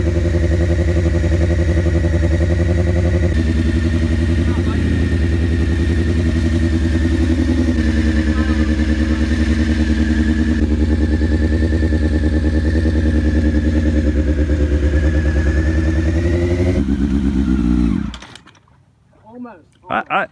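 A 1999 Honda CBR600 F4 sport bike engine runs loud and close with a steady high drone for about eighteen seconds, wavering slightly in pitch, before cutting out abruptly into near silence with a couple of faint bumps.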